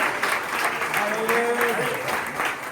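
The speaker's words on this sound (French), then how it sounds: "on peut l'applaudir" An audience at a company keynote claps steadily for a hotel guest named Hélène, a dense and even round of applause with a voice briefly heard over it.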